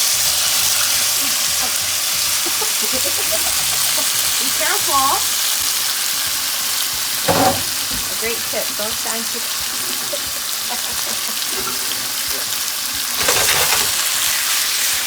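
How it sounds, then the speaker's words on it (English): Chicken pieces sizzle in hot olive oil in a pan for a stir fry, a loud steady frying crackle that runs the whole time while a voice talks now and then over it. "Hear that sizzle."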